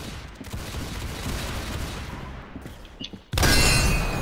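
Gunfire in the Roblox video game: a scatter of muffled shots over steady game noise, ending in a sudden loud, bright burst.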